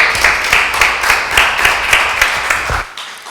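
An audience gives a welcoming round of applause at a live talk or presentation, with fairly steady, pulsing claps for under three seconds before they stop abruptly.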